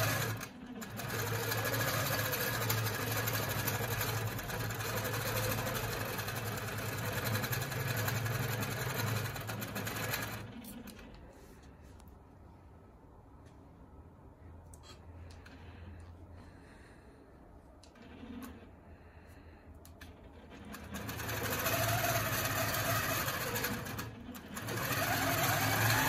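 A longarm quilting machine runs across a jelly roll quilt with a steady, fast, close needle chatter that stops for about ten seconds of low idle hum and then starts up again.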